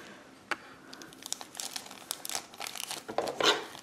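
Plastic packet of gold flakes for DIY slime being cut and torn open, a close, faint run of crinkling and rustling with a few sharp tearing bursts, no voices.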